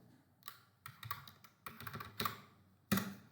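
Fingers type a short command on a computer keyboard in a Linux terminal, giving scattered bursts of close, crisp key clicks with brief pauses between, ending in one firmer keystroke.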